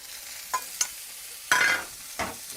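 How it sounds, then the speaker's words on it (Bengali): Leafy khesari greens go into a pan of garlic fried red with dried chilli. The soft sizzles and stirring scrapes are faint and come in short bursts, with a longer hiss in the middle. "তো দেখো রসুনটা লাল লাল হয়ে গেছে, শাকটা এর মধ্যে দিয়ে দিচ্ছি"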